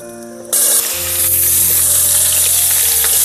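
Pumpkin and potato pieces drop into hot oil and set off a loud, steady sizzle that hisses on without a break, close at hand.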